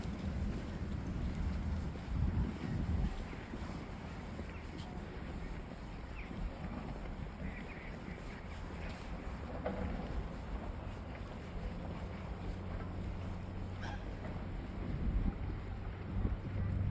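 Steady wind rushing and buffeting against the microphone outdoors at a cold family picnic park in Çorlu, Tekirdağ, a low continuous roar with occasional gusts, no one speaking.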